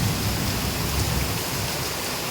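Heavy rain pours down in a dense, even hiss that stays constant and close throughout, with no voices over it.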